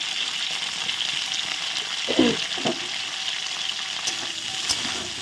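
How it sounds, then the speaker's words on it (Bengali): Cauliflower frying in hot oil in a home kitchen, giving a steady bright sizzle throughout with a couple of louder stirring scrapes near the middle. "তেল গরম হয়ে গেছে আস্তে আস্তে করে দিয়ে দিই হ্যাঁ, ফুলকপিটা ভাজবো"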